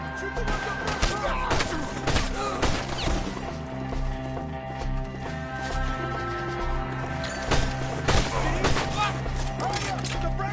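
Bursts of gunfire crack in Red Dead Redemption 2, rapid irregular shots and impacts over a musical score, with shouting voices mixed in.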